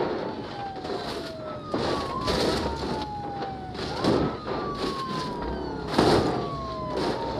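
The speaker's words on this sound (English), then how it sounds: "How do they still have their sirens on?" Police car sirens wail continuously in the BeamNG.drive driving game, with long gliding tones sweeping down and back up. Several sirens overlap at a steady, moderate level, and periodic bursts of crashing noise break in over them.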